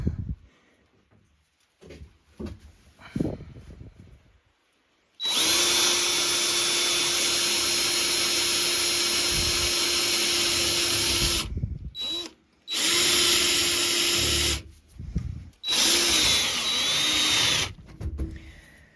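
A power drill drives self-tapping screws into metal stovepipe for a homemade wood stove: several loud, close bursts of high whirring, separated by brief pauses and quiet handling noise.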